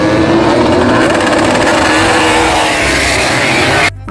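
Toy racing motorcycle whirring loudly and steadily at close range, a continuous buzzing motor drone that cuts off abruptly near the end.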